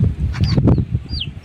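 A chicken clucks close by in a run of short, uneven bursts, with a few thin high peeps mixed in.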